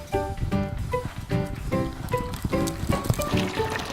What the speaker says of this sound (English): Orange horse.